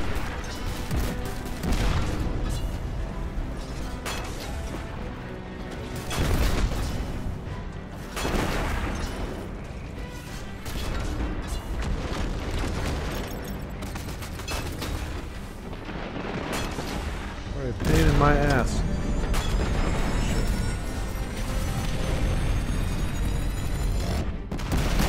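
Heavy booming explosions from Red Legion tanks in the Destiny 2 video game, a steady barrage of deep blasts and rumbling impacts rising in loudness at intervals, with no talk.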